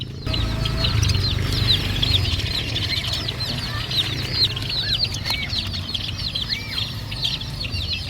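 Chicks and chickens at a seller make continuous high peeping from many chicks, with clucking underneath. The sound is close and dense throughout.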